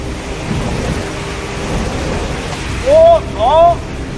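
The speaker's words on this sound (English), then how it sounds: "Thunderstorm. Accompanied by heavy rain, it hit Yiwu in Zhejiang Province, China." Steady heavy rain from a thunderstorm in Yiwu, Zhejiang Province, China hisses throughout with a low rumbling roar, joined near the end by two brief rising-falling voice-like cries.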